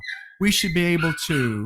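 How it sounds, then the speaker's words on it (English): A dog whimpers in the background with a thin, high whine at the start, then stays faint beneath a man's close conversational speech. "That's my dog"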